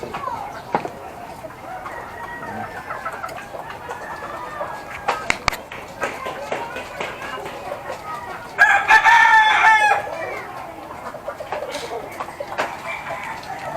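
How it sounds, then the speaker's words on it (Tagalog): Hens clucking intermittently in a small rooftop chicken coop, with a rooster crowing loudly once partway through, while someone talks nearby. "mayroon akong manok na dalawang babae mga kapards eh, na aking inaalagaan."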